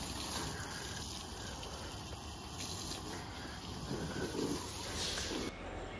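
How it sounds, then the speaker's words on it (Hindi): Water sprays steadily onto a car during a wash, a continuous close hiss and gush that cuts off near the end. "तो अभी गाड़ी को अच्छे से धोते हैं"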